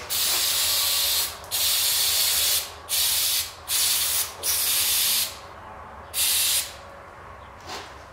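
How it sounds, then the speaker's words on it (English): Carb cleaner sprayed onto a spark plug from an Earthquake auger engine in a series of loud, close hissing bursts, each a second or so long with short pauses between. "I'm just using carb cleaner on that as well."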